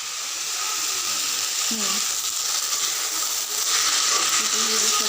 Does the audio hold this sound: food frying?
yes